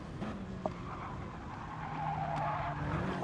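Race car tyres squeal and scrabble over a steady racing engine drone in a video game at Suzuka, continuous for a few seconds, moderately loud with a brief pitch rise midway.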